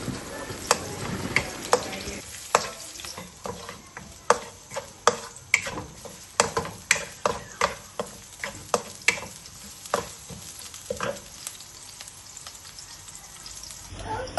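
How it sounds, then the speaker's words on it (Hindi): Onion fries in oil with a steady sizzle under repeated sharp clinks and scrapes of stirring, close and moderately loud, with no talk. "एक अदद प्याज को ऑयल में फ्राई कर लें।"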